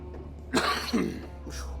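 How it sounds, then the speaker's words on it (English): Two harsh, close coughs in quick succession, followed by a softer rasping breath, over a low steady hum. "got this old cough"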